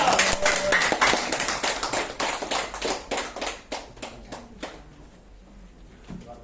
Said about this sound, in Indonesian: Ya, terima kasih tepuk tangan untuk MC kita yang luar biasa, Bapak Hamsyam.